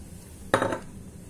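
Potatoes tumble into a pot of cooking meat for a Moroccan dish, making a single short, fairly loud clatter and thud of pieces hitting the pan. Quiet kitchen background before and after.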